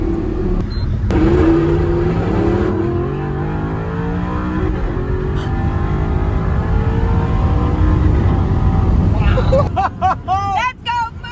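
An Audi R8 V8 with its exhaust valves open revs hard and loud, holding a rising, sustained roar before cutting off near the end, while people talk excitedly over it.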